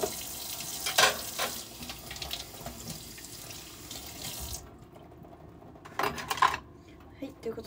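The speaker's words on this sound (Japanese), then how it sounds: "洗い物が終わりました。" Dishes are washed at a sink, with running tap water and clinking that stop midway, then a short burst of water and clatter, close and moderately quiet.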